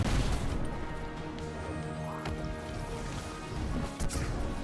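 Explosion in the Destiny 2 video game, a loud crashing blast at the start followed by a sustained ringing, rumbling tail with a few smaller impacts.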